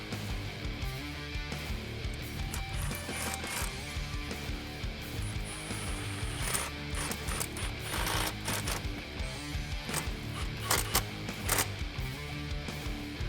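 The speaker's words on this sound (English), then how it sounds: "Grab an 8mm socket and tighten down that clamp." A socket ratchet with an 8mm socket tightens the intake tube clamp on a K&N Series 63 AirCharger cold air intake in a Toyota Tacoma, giving quiet, dense clicking over a low background.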